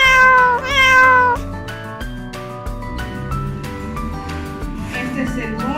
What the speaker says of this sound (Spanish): este es el gato y hace miau